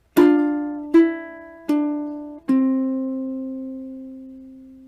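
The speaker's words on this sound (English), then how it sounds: "That's how to play an easy arrangement of Brahms' Lullaby on the ukulele." Ukulele picked fingerstyle, four clear plucked notes spaced evenly, each ringing and decaying, the last note left to sustain; the closing two measures of Brahms' Lullaby, close and clean with no voices.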